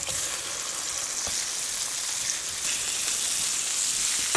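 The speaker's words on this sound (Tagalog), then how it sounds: "ginigisa ang patis" Fish sauce sautéing with tomatoes in a pan for Kapampangan-style salted tilapia, giving a steady, even sizzle without talk.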